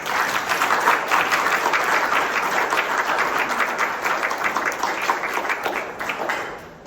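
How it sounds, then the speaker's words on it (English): A big round of applause for the church hosts at a monthly breakfast gathering, lively sustained clapping from a room of people, close and steady before fading at the end. "Let's have a big round of applause."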